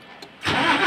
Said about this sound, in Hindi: एक बार गाड़ी स्टार्ट करके देखते हैं।